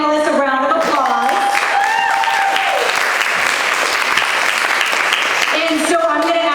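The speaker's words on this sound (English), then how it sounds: "So please give our panelists a round of applause." A conference audience applauds its panelists in a loud, continuous wash of clapping that fills the hall from start to finish, with a voice over the sound system underneath at the beginning and end.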